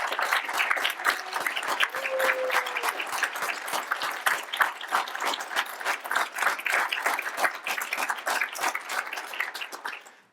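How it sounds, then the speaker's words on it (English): An audience at a business school alumni awards event applauds the honorees with sustained clapping of moderate loudness, individual claps audible within the steady patter, running about ten seconds before fading out. "And let's give them a big round of applause."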